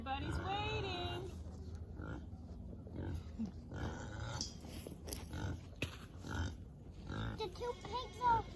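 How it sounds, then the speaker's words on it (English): Hungry pigs grunt and squeal at a winter garden homestead, mixed with other farm animal calls and voices talking nearby, the grunting coming in uneven bursts at moderate loudness. "The two pigs are the most hungry."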